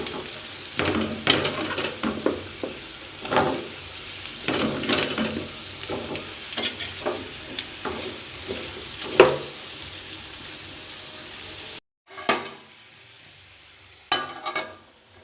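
Chopped bottle gourd pieces sizzle loudly in hot tempering oil for a prawn curry while being stirred, with steady crackling broken by repeated scraping strokes and a brief pause near the end before a few more stirs.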